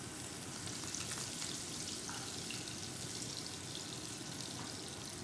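Scallops cook in a pan with a dense, constant sizzle that stays loud and steady from start to finish, with no talking over it.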